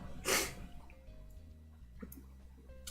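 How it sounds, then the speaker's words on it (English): A single sharp sneeze from a man bursts out near the start, followed by faint breathing and quiet room sounds. "I am sneezing today."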